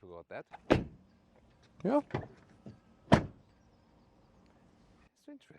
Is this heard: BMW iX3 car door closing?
yes